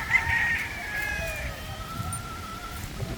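White Boston gamefowl rooster crows nearby, a single drawn-out cock-a-doodle-doo call over faint background noise.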